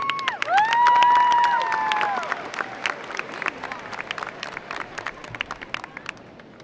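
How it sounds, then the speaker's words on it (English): Graduation audience at a high school ceremony applauds, opening with cheers and shouts over clapping that thins into scattered individual claps as it fades. "Give them a round of applause, please."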